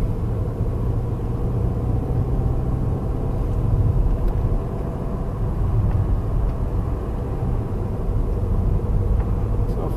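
Land Rover Discovery Sport driving on a snowy road in wintry conditions, a steady low engine and tyre rumble with road noise continuing throughout, close and even in level, with no talk.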